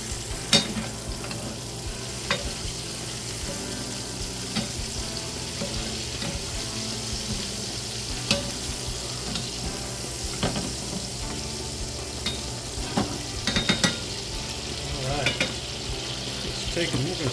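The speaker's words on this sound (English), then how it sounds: "I'm going to baste our steak. Put that butter and stuff on there." A steak sizzles loudly in a pan while being basted with butter, a continuous close fry broken by sharp spatters and spoon clinks, with no voices.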